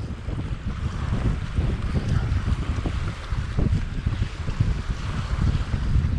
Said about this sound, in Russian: Ветрено, конечно, но ничего страшного.